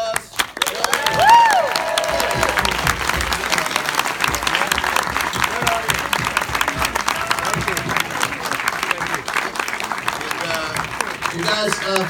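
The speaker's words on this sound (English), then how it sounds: "Big round of applause." Audience applause after a 25th anniversary screening Q&A of Leprechaun on St. Patrick's Day, loud and sustained dense clapping with some cheering and crowd noise running throughout.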